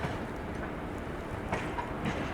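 A freight train hauled by twin WAG-7 locomotives rolls along at a distance, a faint steady rumble with soft rail clatter and no voices.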